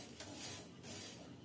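Ingredients dry-roasting in a pan over a medium flame, stirred with a utensil that scrapes and clinks faintly against the metal in a steady, quiet rhythm.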